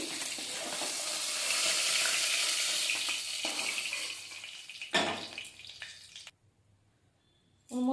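Poa bhola fish frying in oil, a loud steady sizzle that fills most of the clip, then a clatter and a sharp drop to near silence before a brief final burst of sizzling.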